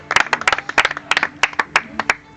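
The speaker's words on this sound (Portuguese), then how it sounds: "Louve ao Senhor, aplaudindo a Ele bem forte" A congregation claps in rhythmic bursts of hand claps during a worship service, the claps sharp and close with short gaps, slightly uneven timing and no speech.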